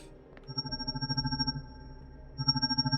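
A phone rings in a video game with a warbling electronic trill, two bursts of quick pulsing tones separated by a short pause, fairly quiet and with no voices over it.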